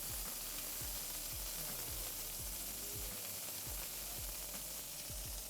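Steak searing in a hot pan for steak frites, a continuous close hiss of sizzling fat with irregular low clicks and pops running throughout, no voices.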